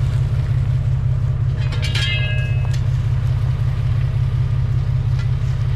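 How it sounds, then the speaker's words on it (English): A Jeep LJ20 creeps slowly down a rough Sierra Nevada mountain trail. Its engine holds a steady, close, low rumble throughout, with a brief faint squeak near the middle. "We'll drive down nice and slow."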